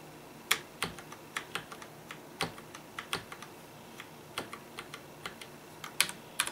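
Typing on a Ducky Shine 2 DK9087 LED mechanical keyboard with Cherry MX Brown switches: crisp, fairly close keystrokes arrive in uneven bursts with short pauses between them, with no talking.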